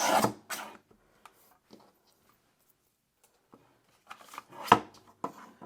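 A hanging file folder is trimmed by about a quarter inch to make a small notebook, giving close, dry paper-cutting and rustling sounds at the start and again near the end, separated by near silence with faint taps.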